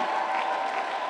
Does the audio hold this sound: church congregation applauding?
yes